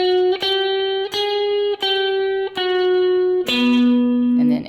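An electric guitar plays a lead line in E with a distorted, effected tone: several sustained notes separated by quick triplet-like picks, ending on a lower held root E, loud and alone.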